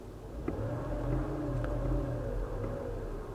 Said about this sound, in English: Now, if I step on the gas,